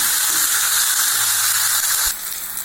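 Tomatoes with a little salt sizzle in a pan, a close, continuous frying hiss that drops sharply near the end as a lid goes on, with a faint clink.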